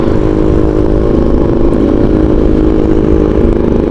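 A Rusi Macho TC 150 motorcycle engine runs steadily and loudly close by, a continuous mid-pitched drone with a rough clattering texture and no pauses, no voices over it.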